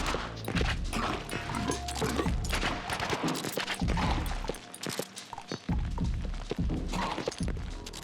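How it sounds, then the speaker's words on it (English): Gunfire and thudding impacts from the side-scrolling action game Gunbrella, with repeated blasts and thumps mixed into busy, loud game music and effects throughout. "you can just land on enemies and shoot them as you land"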